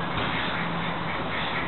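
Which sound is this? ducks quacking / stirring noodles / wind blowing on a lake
ducks quacking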